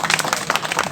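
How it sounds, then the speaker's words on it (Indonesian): A crowd claps together in dense, continuous applause at an Indonesian Independence event, loud and close throughout the short moment. "Tepuk tangan dulu dong untuk Pak Budi."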